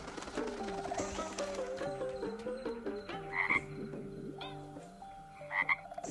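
Frogs croak in overlapping, wavering calls at moderate volume, with a few higher chirps and a soft cooing bird in the background.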